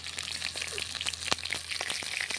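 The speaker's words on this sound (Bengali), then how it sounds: "ভালো করে বেগুনটা ভেজে নেব" Long strips of salted, turmeric-dusted eggplant fry in hot oil, a steady close sizzle broken by small pops and crackles, with no voices.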